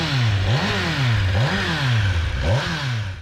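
A 2023 Kawasaki Ninja 1000 SX Touring motorcycle engine revs up and drops back several times in quick succession, each rise and fall clear and close, with no voices over it.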